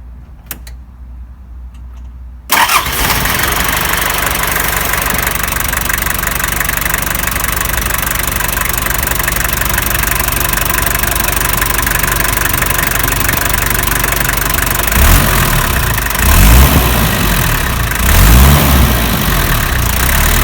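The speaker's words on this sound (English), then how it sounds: "let's go ahead and crank up this engine and you'll see how it cranks up." After a brief quiet moment a 1989 Land Cruiser BJ73's 3B diesel engine cranks and catches, then settles into a loud, steady, rattling idle that continues throughout.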